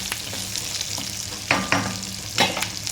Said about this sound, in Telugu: తాలింపు అనేది మనకి కొంచెం ఇలా మగ్గితే చాలండి